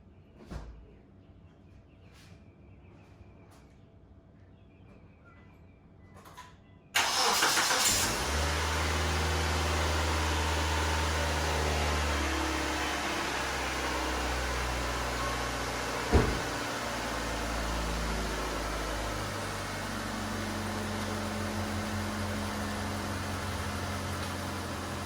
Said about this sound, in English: All right, everything's buttoned up, finished up, so I'm gonna turn it on, see how it sounds.